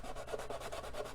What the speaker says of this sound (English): use my 220 grit sanding stick and just start trying to